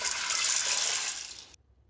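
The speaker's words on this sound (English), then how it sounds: "Pour your beans into the Instant Pot, and then you're going to want to add 7 cups of water." Water pours steadily into an Instant Pot holding beans, a bright close rushing stream that stops abruptly after about a second and a half.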